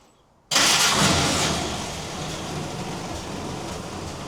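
A 1950 Willys M38 jeep engine catches on choke after a brief quiet moment, bursting into a loud, rough run that settles into a steady idle.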